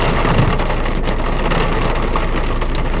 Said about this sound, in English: Listen to that rain, nightmare.